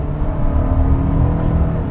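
A 2021 Hyundai Santa Fe Limited 2.5T with a dual-clutch transmission on the move, heard from inside as a steady, loud, low engine and road drone.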